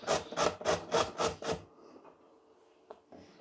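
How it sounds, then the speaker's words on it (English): A carrot is grated by hand on a grater for coleslaw, giving six loud, evenly spaced rasping strokes close by, then a quieter stretch of light scraping and a faint knock. "keep the other end and grate it"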